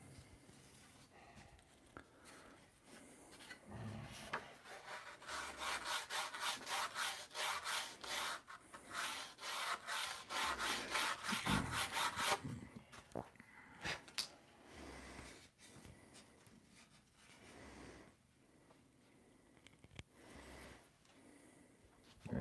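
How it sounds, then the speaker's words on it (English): Wood is sanded with quick back-and-forth strokes, rubbing and rasping at a wing opening, building to a dense rhythmic stretch and then easing into scattered scrapes and handling noises. "then the opening's got to be sanded out on the bottom"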